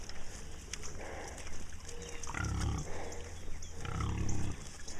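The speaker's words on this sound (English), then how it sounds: "this is the pig parade." Pigs on a farm being herded in a parade toward the eastern pasture, grunting and snorting in loud, close bursts with a lower, continuous background of shuffling and grunts.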